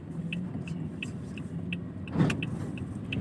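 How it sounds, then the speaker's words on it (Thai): A car idles or drives slowly at the end of a workday, heading home: a steady low engine rumble with a faint regular ticking and a brief louder thump near the end, close and continuous. "เดี๋ยวผมขับรถกลับบ้านก่อนครับ"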